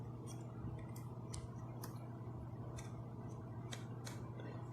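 Plastic headband of EPOS C1 headphones being adjusted, giving a series of soft, sharp clicks in irregular steps, close up over a steady low hum.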